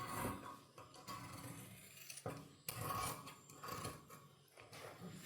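Scissors cutting fabric for a double-collared uniform coat, with a steady crisp rasping and snipping texture in irregular close-up bursts, a brief pause near the middle, and no talking.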